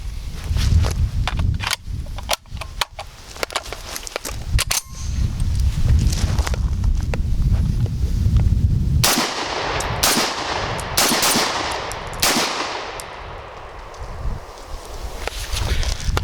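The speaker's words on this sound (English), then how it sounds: "So let's go ahead and let's get shooting this thing." An RIA VR80 AR-style semi-automatic 12 gauge shotgun fires a series of sharp, loud blasts in quick, uneven succession nearby, with clanking handling sounds between shots.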